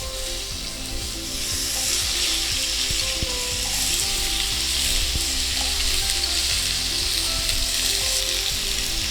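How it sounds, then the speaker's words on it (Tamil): Cut potatoes frying in oil with garlic, a steady dense sizzle with occasional stirring scrapes throughout, close and fairly loud with no talking. "இதில் இப்போ இந்த கட் பண்ணி வச்சுருக்க உருளைக்கிழங்கு போடலாம்."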